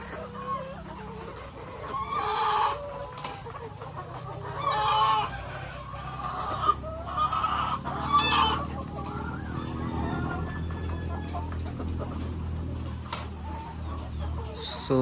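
Layer chickens in a layer building cluck and squawk in a busy, overlapping flock, with a rooster-like crow rising midway over a low steady hum of the house.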